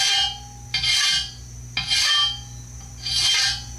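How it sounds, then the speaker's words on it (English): A medium hand file rasps over starting threads in three long strokes, each a gritty broadband scrape with short gaps between, close up over a steady low hum. "a medium file and just broach the starting threads"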